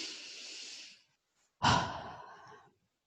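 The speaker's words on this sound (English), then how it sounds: "Just taking a nice deep breath in again." A slow, deep breath drawn in through the nose and mouth during a calm relaxation exercise, followed after a short pause by a fuller, louder inhale-exhale with a sighing quality, close and alone with no talk.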